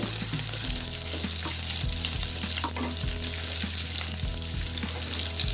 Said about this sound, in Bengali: আমি এখানে অর্ধেক পেঁয়াজ একটা পেঁয়াজে অর্ধেক বেশি দেবো না দিয়ে এখানে দিয়ে দিলাম দিয়ে ভালো করে এটাও লাল লাল করে নেব